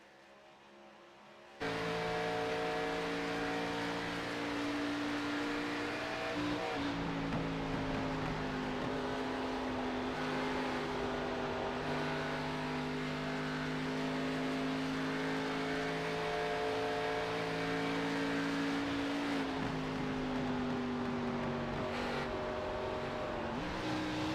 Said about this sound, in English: You hear the downshift coming out of 3.